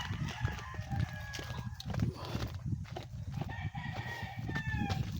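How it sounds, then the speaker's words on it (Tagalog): Chickens cluck and a rooster crows at moderate distance over steady outdoor background noise, with several overlapping calls. "may mga manok, mga manok"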